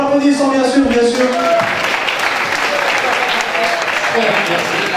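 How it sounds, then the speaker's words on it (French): An audience applauds at a hall event, loud sustained clapping filling the room, with a voice speaking over the start before the applause takes over. "Vous pouvez l'accueillir en l'applaudissant bien sûr"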